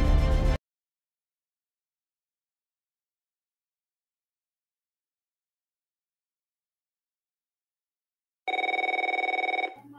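A cell phone gives two separate bursts of electronic ringing, one clipped and brief at the start, then a longer steady tonal ring near the end, with silence between.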